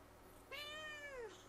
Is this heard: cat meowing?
yes